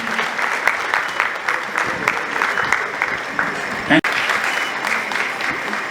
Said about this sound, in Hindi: हमारी जोरदार तालियां पहुंची